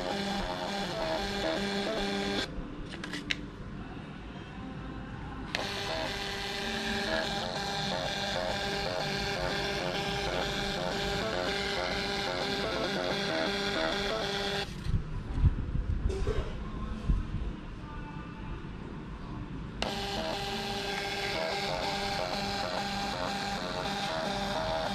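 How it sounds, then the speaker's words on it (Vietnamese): An MTP3 Bluetooth thermal printer printing a receipt gives a steady, buzzing mechanical whir in long bursts, stopping briefly twice before starting again, close and alone with no talking. "Mình sẽ lấy một cái đơn cũ mình in thử cho các bạn xem."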